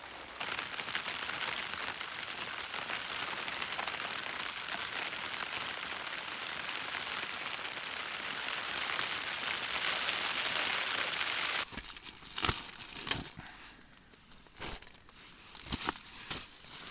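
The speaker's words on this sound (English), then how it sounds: "as you can hear, it started raining a little bit" Light rain pattering steadily on a tent during wild camping beside a mountain lochan, a dense close hiss for most of the stretch, then thinning to scattered louder drops and rustles near the end.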